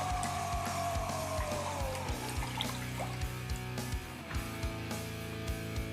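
Water splashes and trickles from a tap while a traditional safety razor is rinsed, a steady close stream with soft splashing, heard alone over a low background hum.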